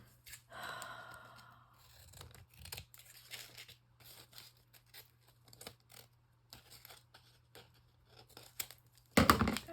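Scissors snipping through paper ephemera pieces for a collage card, with soft irregular cuts and rustling of paper at close range, ending in a louder crinkle.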